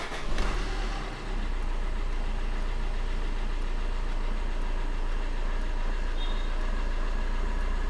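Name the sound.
Maruti Suzuki car engine starting and idling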